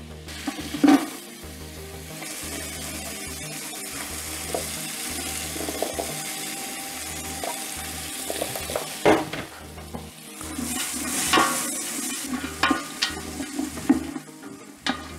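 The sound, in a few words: onions sweating in melted butter in a pot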